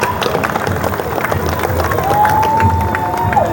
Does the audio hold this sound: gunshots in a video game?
no